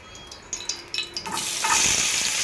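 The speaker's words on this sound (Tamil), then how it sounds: "சின்ன வெங்காயம் கட் பண்ணதை சேர்த்துக்கலாம் அதை வதக்கி விட்டுக்கலாம்" Chopped shallots dropped into hot oil in a pan for a broccoli stir-fry, with a few light clinks and stirring taps before a loud, steady sizzle swells up close.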